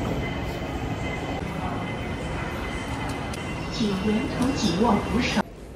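An airport terminal train rumbles in a steady, loud interior drone, with people talking over it throughout and a brief rise in noise just before a sudden drop at the end.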